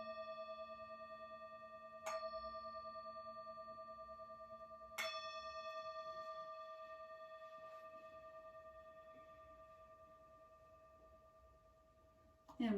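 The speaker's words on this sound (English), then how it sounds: "And this chime is for those of you who are ready to close out." A meditation chime rings out in a quiet guided session, a clear sustained bell tone struck again around two and five seconds, each strike's resonance slowly decaying into near silence.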